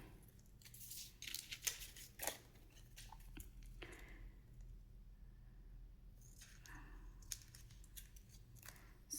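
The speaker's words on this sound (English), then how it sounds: "So now I'll just use my scissor and" Scissors snip around a strip of journal tape stuck onto a paper page, several quick crisp cuts in short bursts with pauses between, close and quiet.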